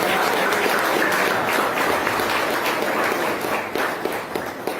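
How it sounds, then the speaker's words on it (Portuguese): A church congregation applauding to welcome a preacher, dense continuous clapping and crowd noise filling the room, loud and steady before tapering slightly at the end. "Receba o servo de Deus com as palmas de vitória"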